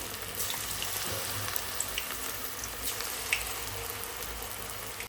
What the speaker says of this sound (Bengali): এইটা আর কি লাস্ট ভাজা হচ্ছে ফুলকপি